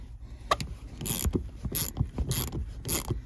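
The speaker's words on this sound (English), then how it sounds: "Can't beat using genuine snap-on 80-tooth quarter drive ratchet and extension" A Snap-on 80-tooth quarter-drive ratchet with an extension works a fastener on a Rover 200, producing several short bursts of fine, rapid clicking close up between quieter moments.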